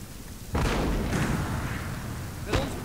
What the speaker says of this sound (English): we're going to set some shots off